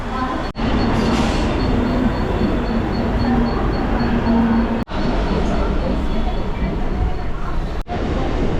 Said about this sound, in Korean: 이런 게 그냥 말 그대로 기차예요 기차인데 메트로야